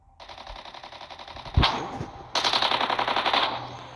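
Rapid robot machine-gun fire in the Mech Arena video game: two long bursts of fast, evenly spaced rattling shots with a short pause between them, loud and clear with no talk over them.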